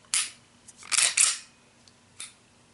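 An FN FNS-9 pistol trigger being pulled and reset by hand, producing a few sharp, close mechanical clicks, one isolated snap followed by a quick cluster and a final lone click.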